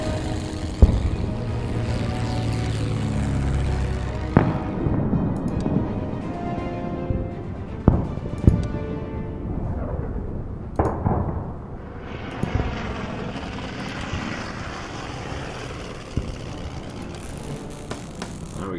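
A bomber aircraft in the strategy video game Order of Battle drones with a propeller engine roar that swells and fades over many seconds, punctuated by several sharp, loud impacts or shots.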